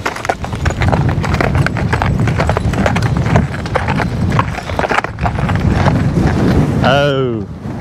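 A driven team of horses clip-clops along a driveway with dense, continuous hoofbeats close by, and one horse lets out a whinny near the end.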